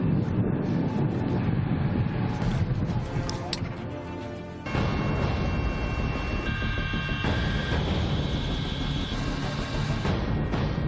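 Steady broadband roar of a Spanish customs service helicopter in flight over the Galician and Portuguese coast, loud and continuous cabin and rotor noise throughout, with a brief dip midway.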